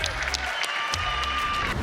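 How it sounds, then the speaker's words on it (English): An audience applauds podcast guests, a brief burst of clapping and light cheering from a small crowd, loud and close, fading briefly in the middle and then resuming. "Give a round of applause for them"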